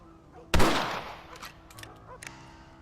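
A sharp rifle shot bursts out in Red Dead Redemption, loud and near, its echo fading over a second, followed by faint scattered clicks and a couple of softer distant reports.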